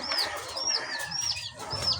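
Pet chickens kept as layers clucking and calling in short repeated bursts, several distinct calls spread over two seconds against a steady outdoor background.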